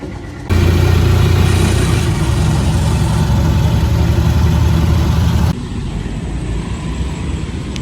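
Motorized tricycle engine running during a ride through Makati streets, a loud steady low rumble that drops to a quieter drone partway through, with no voices.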